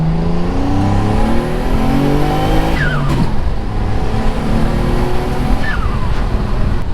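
A boosted car accelerates hard up a hill from low to high revs, its engine note loud and rising steadily, with gear-change sweeps and turbo whistle close to the microphone and no talking.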